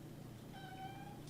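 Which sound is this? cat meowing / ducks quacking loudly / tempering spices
cat meowing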